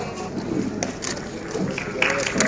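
An audience at a stage event breaks into applause for a makeup artist, a short burst of mixed clapping and crowd noise running under an announcer's voice.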